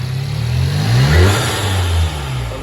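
A Volkswagen MK7 GTI fitted with an Integrated Engineering intake revs once up from idle and settles back, a loud close engine swell with a throaty intake note, no talking.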